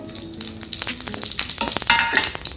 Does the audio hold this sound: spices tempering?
yes